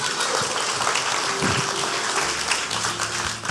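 Applause from a church congregation fills the space as a broad, steady wash of clapping, with faint tonal music underneath.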